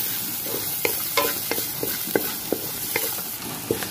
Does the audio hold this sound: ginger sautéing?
yes